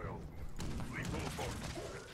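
An anti-armor explosive Gatling gun firing in Fallout 76, a dense rapid burst of blasts with a mechanical whir, steady and fairly loud for about two seconds.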